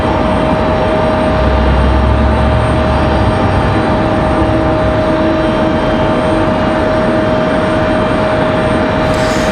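A Frontier Airbus A321neo jet departing Raleigh-Durham International Airport for Houston gives a loud, steady engine roar that holds throughout with a faint tonal whine on top.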